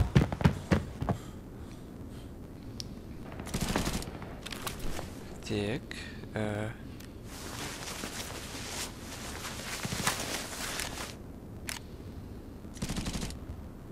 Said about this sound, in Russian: Ух ты ж, какая там стрельба.